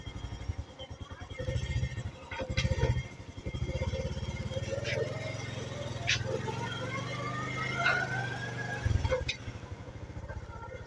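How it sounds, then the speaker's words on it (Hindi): Motorcycle carrying several riders to a market during lockdown, its engine a steady mid-pitched drone close by for the whole stretch, with a brief louder surge early on and people talking over it. "हम सारे जो है वो बाइक पे बैठ चुके हैं, तो अभी हम जाते हैं बाज़ार।"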